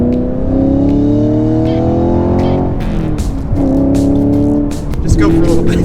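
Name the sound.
Chevrolet Camaro car driving and accelerating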